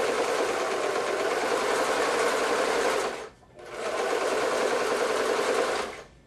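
A sewing machine stitching a blouse seam runs in two steady, loud whirring bursts, each about three seconds long, with a brief pause between them.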